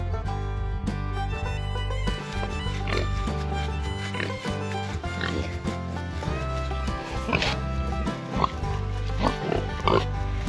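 Pigs grunt and oink on a homestead, short snorting bursts scattered through the clip over a steady tonal background that sounds like music.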